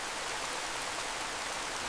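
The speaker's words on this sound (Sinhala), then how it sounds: "මචං මෙහෙට මේ වහින්නේ පෙපරෝනි වැස්සක්." Pepperoni rain falls in a Garfield video game, rendered as a steady, even rain hiss that continues without a break over the short stretch and has no voices.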